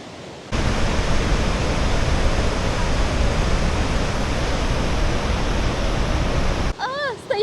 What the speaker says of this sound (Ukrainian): води тут просто тонни, тонни, і вони падають кожну секунду